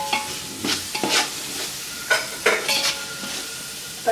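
Tomatoes and salt are stirred into frying onions for fish biryani, with a soft sizzle under repeated scraping strokes of a spoon against the pan.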